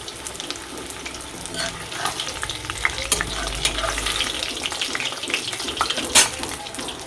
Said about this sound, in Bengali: এখন আমি ফুলকপি ভেজে দেই, ফুলকপি ভেজে দেই